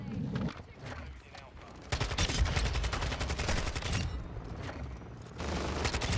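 Rapid sustained bursts of the Death Machine minigun in Call of Duty: Modern Warfare 2, dense loud rattling fire that rises and falls in waves, with players talking over it.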